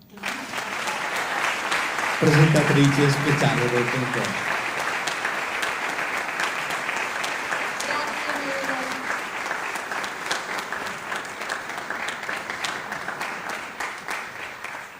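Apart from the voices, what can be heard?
audience applause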